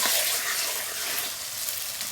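Marinated goat meat being sautéed in hot spiced oil, a loud, dense, continuous sizzle close by with faint stirring, and no voices.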